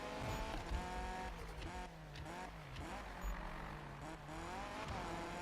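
A Mazda MX-5 drives and drifts in Need for Speed (2015), its engine revving up and down in rising and falling sweeps, with tire squeal in the mix, loud and continuous, with no talking.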